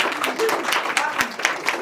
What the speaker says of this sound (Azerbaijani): Alqışlayaq özümüzü.